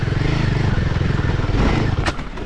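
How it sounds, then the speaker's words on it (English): A Royal Enfield Himalayan 450 adventure motorcycle chugs uphill in low gear off-road, its engine giving a loud, close, steady low thumping throb with a brief clatter near the end. "I just kept the Himalayan in a low gear and just kept chugging along up the hill"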